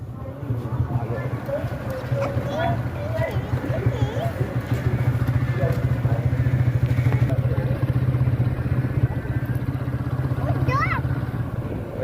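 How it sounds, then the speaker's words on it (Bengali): A motorcycle ridden fast on a road, its engine a steady low drone running continuously beneath people talking. "আমার ভাই বাইকটা অনেক জোরেই চালাচ্ছিল"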